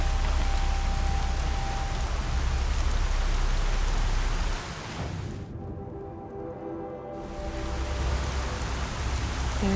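Heavy rain in Horizon Zero Dawn pours as a dense, steady hiss. It drops off abruptly for about two seconds, then returns at full strength.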